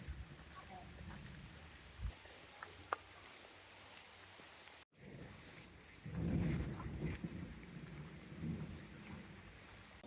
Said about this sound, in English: The rain has lessened